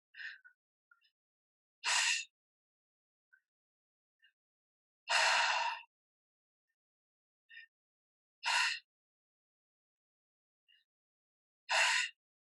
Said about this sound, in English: we're breathing in and out of the mouth for the whole practice